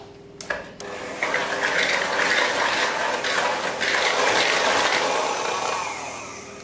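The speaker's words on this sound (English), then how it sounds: "I'm going to use my electric whisk to mix them up until they're nice and creamed together" An electric hand whisk whirs steadily as it creams granulated and light brown sugar in a bowl for a gluten-free skillet cookie, a continuous buzzing drone close by after a brief start-up clatter, with no one speaking.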